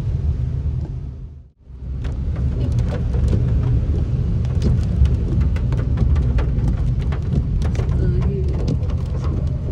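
Steady heavy monsoon rain in Pune hisses and patters throughout, with a brief dip near the start, and a low rumble of traffic or distant thunder underneath.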